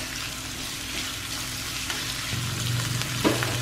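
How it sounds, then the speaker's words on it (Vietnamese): Meat stir-frying in annatto oil, a busy continuous sizzle with a louder burst of frying and a scrape of stirring near the end, close up and without speech. "Mình cho cái chỗ thịt này vô mình xào trước nha."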